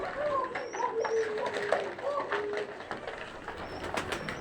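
Pigeons feeding on the ground give soft, repeated low coos, close and gentle, in a quiet setting with faint background noise.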